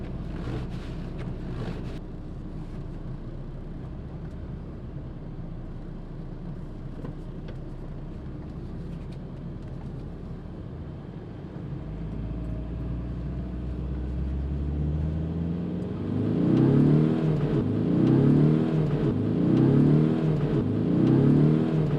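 A VW Jetta engine idles to warm up on a foggy morning. There is a low steady rumble with some wind-like noise on the microphone, and the engine note swells into a louder, throbbing rumble near the end. No one speaks.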